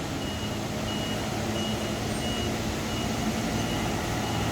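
An Isuzu truck carrying a load of bricks reverses, its steady reversing beeper pulsing evenly over a constant engine rumble, with no talk.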